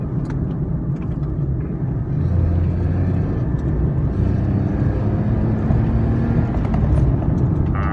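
A car's engine and road rumble fill the cabin as it drives on and overtakes a cyclist, a steady loud drone with low tonal hum and no talk.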